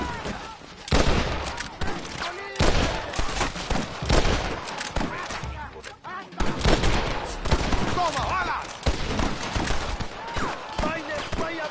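Rapid gunfire bursts and volleys in the video game Red Dead Redemption, loud and dense, nearly continuous over the whole stretch with brief lulls, voices shouting among the shots.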